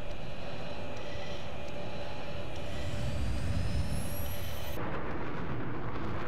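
A fighter jet flies in the video game Battlefield 3, a steady, roaring engine drone with rising whine that drops abruptly in tone partway through, no talk over it.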